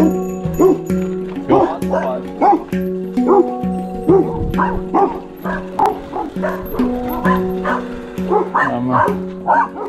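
Guard dogs at a house at the end of a dead-end side road in Apulia bark repeatedly in a rapid, rhythmic string of loud, fairly close barks and yips throughout.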